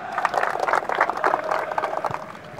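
Audience applause at a talent awards event in Mbeti North, Kenya, a steady patter of many hands clapping at moderate distance, with faint voices underneath.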